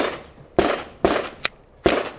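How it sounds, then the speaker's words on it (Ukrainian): Pistol fired with real cartridges at a shooting practice: three sharp, loud shots spaced roughly half a second apart, each with a short ringing tail, plus a fainter crack between the second and third. "заряджай і стріляй, поки патрони не закінчаться"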